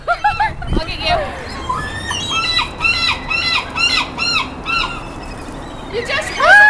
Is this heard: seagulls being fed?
yes